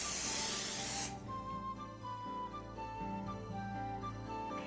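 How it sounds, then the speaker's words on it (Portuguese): A bottle of makeup setting spray is pumped once as a finishing step on bridal makeup: a loud, close hiss lasting about a second, then quiet room hum. "E para finalizar, aplicaremos novamente o spray de maquiagem."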